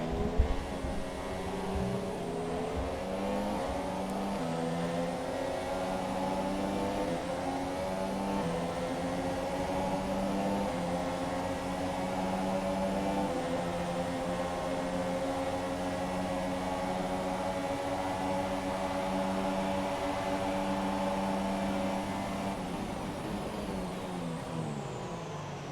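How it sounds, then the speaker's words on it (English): Several V6 Formula 1 engines in the F1 2017 racing game drone in a steady high-pitched whine. The layered tone runs unbroken at a constant level for the whole stretch, with no talking. "as much as people say they don't like the V6 sounds, honestly, the V6s aren't that bad"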